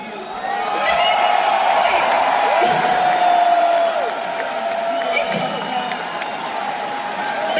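A concert crowd cheers and applauds, heard loud and somewhat distant, with high whoops and a continuous roar that swells then eases slightly toward the end.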